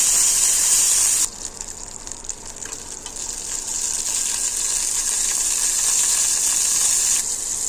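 Chopped tomatoes hit hot oil in a village-style kitchen, a loud sizzle that drops briefly as they land, then builds into a steady, continuous frying hiss until a sudden cut near the end.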